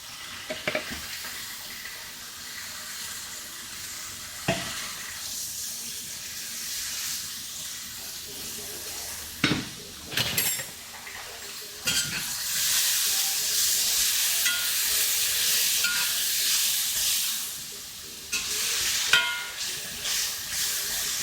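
Onions frying in a hot pan for caramelizing, a bright hiss that rises and falls as they are stirred, with occasional sharp clatters of a utensil and bursts of louder sizzle.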